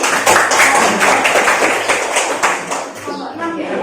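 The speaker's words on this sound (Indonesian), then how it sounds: "tepuk tangan untuk kelompok 1" A classroom of students claps for a presenting group, a dense burst of hand claps with chatter and voices mixed underneath, fading slightly toward the end.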